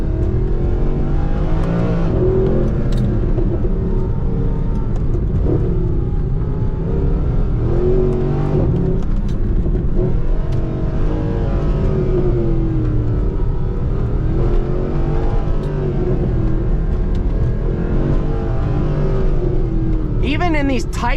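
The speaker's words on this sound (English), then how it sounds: "we got the 4-liter twin-turbo V8, which honestly, Mercedes did a great job of making that sound good" Mercedes-AMG 4-liter twin-turbo V8 powers a car along tight, twisty roads, with a continuous engine drone rising and falling under acceleration, heard from inside the car for the whole stretch.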